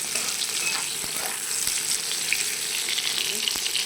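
Pointed gourd (potol) frying in hot oil in a home kitchen gives a steady, busy sizzle with crackling pops and occasional stirring taps, close and continuous, with no voices.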